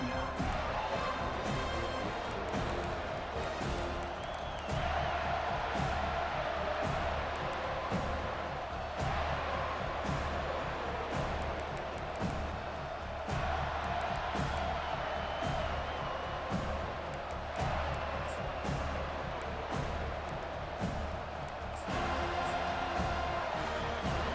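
Simulated stadium crowd in College Football 25 roars steadily throughout, a dense wall of cheering and whoops with occasional thumps, loud and continuous with no break.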